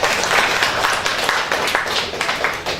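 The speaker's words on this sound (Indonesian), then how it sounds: "Tepuk tangan buat Anda semua." An audience breaks into dense, steady applause, many hands clapping together at close range for a few seconds.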